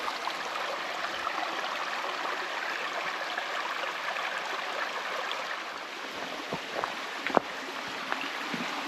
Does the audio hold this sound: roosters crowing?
no